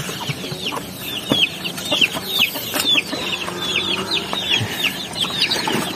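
Native chickens cluck and peep nearby in a farmyard where hens are kept for laying eggs, with a busy run of short, high calls and chick-like cheeps over faint rustling and a few soft knocks.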